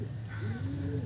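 Pigeon cooing, a low soft murmur with gentle rising and falling tones, held fairly steadily through the moment from a pair of high-quality loft pigeons, close by with a faint voice in the background.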